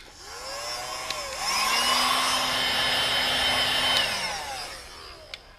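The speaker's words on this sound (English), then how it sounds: "you don't want to hear a noisy hot air gun while I heat the tape up" A hot air gun heats adhesive tape while fitting stone and arch guards on a Mercedes A45 AMG, giving a steady close whirring rush that starts, holds, then winds down, with no speech.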